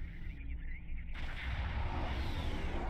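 A giant cannon weapon fires in Halo CE, a single heavy boom with a whooshing blast that carries into a rumbling low tail, loud and close against game background noise.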